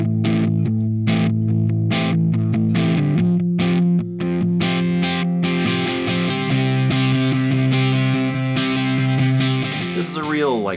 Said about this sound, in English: You crank up the compression and the distortion, but keep the delay and reverb basically to a minimum or completely gone.